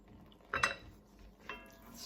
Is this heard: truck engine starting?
no